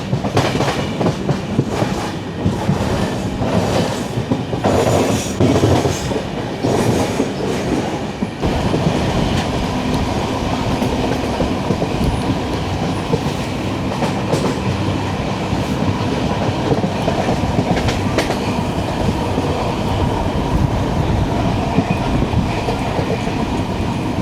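A Jan Shatabdi Express with new LHB coaches runs on rails after leaving Thrissur. Its steady rumble and rhythmic wheel clatter fill the clip loudly and continuously, with no voices.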